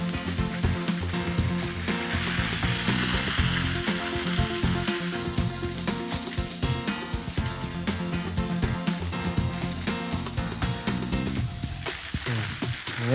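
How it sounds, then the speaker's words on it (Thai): Wide rice noodles crackle and sizzle loudly in hot oil, a dense steady frying hiss with bubbling throughout, close and continuous with no voices. "นี่ทอดไปพลิกกลับบ้าง"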